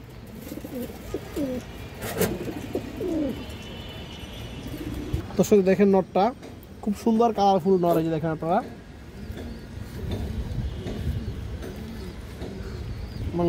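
Old-blood high-flyer pigeons coo nearby in a run of rolling, throaty calls that pick up midway, while someone talks over them and birds rustle around.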